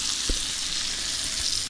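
Pomfret fish frying in a pan, a steady loud close sizzle with one or two faint thumps underneath, cutting off abruptly at the end.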